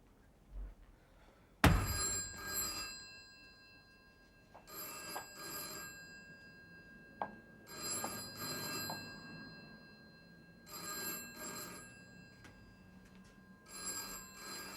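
A telephone bell rings indoors in a series of regular, evenly spaced rings, fairly quiet and alone, with a sharp thump near the start.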